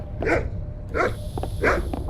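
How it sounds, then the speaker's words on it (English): A dog in the video game The Cave barks three times at an even pace, close and clear, over a low steady background hum. "Please, stop barking."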